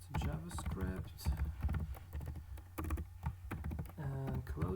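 Code is typed on a computer keyboard, with quick irregular clicks of keys under close, steady talk from a person explaining as they type.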